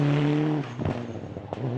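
A rally car pushed hard on dry gravel roads, its engine holding a steady tone before a brief rush of tyre and gravel noise, close and loud over a short moment.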